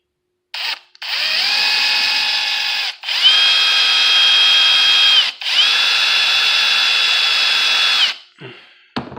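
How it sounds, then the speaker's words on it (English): A power drill whines loudly in three long bursts with brief pauses between, the pitch rising slightly as it bites through material, drilling a hole to install an LED puck light. "I drill out the hole"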